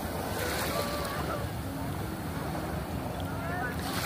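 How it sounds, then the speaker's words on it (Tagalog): Ocean surf surging in at high tide, a steady broadband wash of breaking waves with wind noise across the microphone, continuous and fairly close throughout. "palakas na yung alon"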